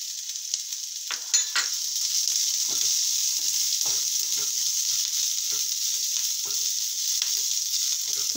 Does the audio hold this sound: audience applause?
no